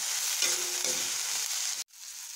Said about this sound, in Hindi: अब प्याज के साथ में मैं हरी मिर्च भी डाल दे रही हूँ जो बारीक काट के रखी है मैंने, इसको भी अच्छे से भूज ले रही हूँ।